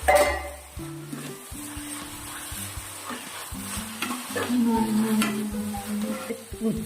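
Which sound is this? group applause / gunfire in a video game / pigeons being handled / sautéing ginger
sautéing ginger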